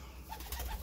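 Soft, low pigeon cooing, a few gentle murmuring calls close by in a quiet indoor space.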